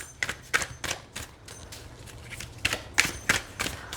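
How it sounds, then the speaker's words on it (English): Oracle cards from a Forest of Enchantment deck being shuffled by hand, a close series of crisp riffling slaps in an uneven rhythm, with no talking. "Let's see how it shuffles this way."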